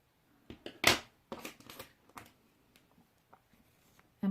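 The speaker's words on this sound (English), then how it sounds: "And then just cut the yarn" Scissors snip through crochet yarn in a few sharp, close cuts, separated by quiet handling rustles and small taps.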